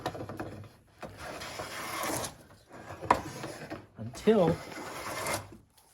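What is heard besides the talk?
hand plane taking thick shavings off a wooden board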